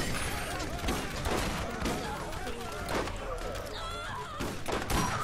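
Shotgun fire in the video game Borderlands, with repeated booming blasts in quick bursts over a dense layer of combat noise, while a voice talks over it.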